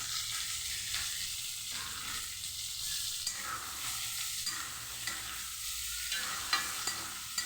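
Potato, tomato, capsicum and onion fry in a pan, a constant close sizzle broken by repeated scraping strokes of a spatula in a loose rhythm, with a few sharp clinks near the end and no talking.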